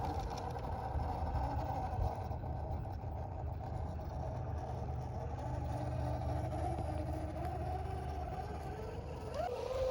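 A small RC rock crawler grinds up a rocky trail, its electric motor giving a steady whirring drone that rises in pitch near the end, heard close and continuous with no one talking.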